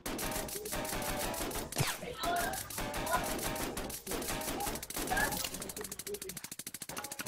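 Rapid bursts of gunfire in the video game ROS rattle over a loud game soundtrack, ending with a fast staccato volley.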